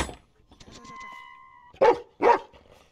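Two sharp dog barks ring out near the end of a scene in the horror video game Insilence, following a stretch of quieter game sound and faint tones.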